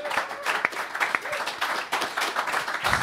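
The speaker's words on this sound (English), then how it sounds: "So a round of applause for Hayabusa 2." Audience applause follows a remark about the Hayabusa 2 spacecraft, with a short burst of mixed clapping from a small group, close and fairly loud, fading slightly toward the end.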